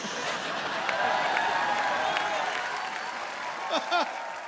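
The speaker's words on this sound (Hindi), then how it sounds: "उनके लिए जोरदार तालियां।" Studio audience on a TV comedy show applauding, a continuous bed of clapping with a few whoops and cheers rising near the end.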